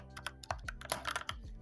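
Close, fairly quiet clicking of keys on a computer keyboard in a short uneven burst of typing strokes, with no speech.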